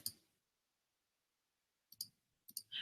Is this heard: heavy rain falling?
no